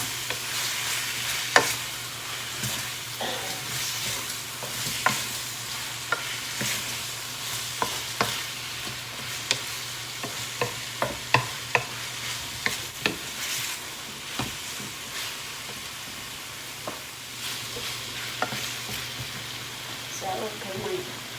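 Beef and broccoli sizzles and fries in a pan while a utensil scrapes and stirs in repeated clicks and taps, with occasional quiet speech in the background.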